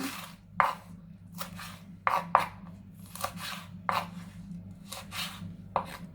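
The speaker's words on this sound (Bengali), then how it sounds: "পেঁয়াজ নিয়েছি অর্ধেকটা ওকে একটু মোটা মোটা করে কেটে দিচ্ছি" Knife chopping half an onion into thick pieces on a board, about a dozen crisp, close cuts in an irregular rhythm over a low background hum.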